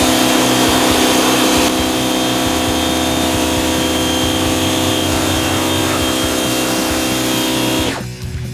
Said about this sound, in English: we're going to go ahead and give it a pressure rinse to remove all the cleaner